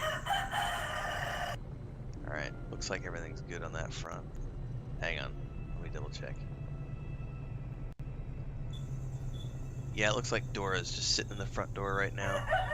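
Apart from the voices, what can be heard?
chickens clucking and crowing on a homestead live stream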